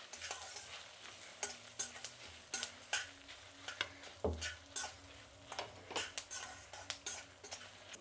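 Urad dal, coriander seeds and dried red chilies fry in a pan, with soft crackling and sizzling under repeated sharp scrapes and clinks of a spoon stirring against the metal, close and fairly quiet.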